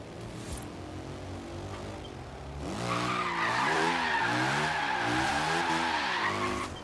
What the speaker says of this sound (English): Dude, this thing can drift, man. This thing can freaking drift.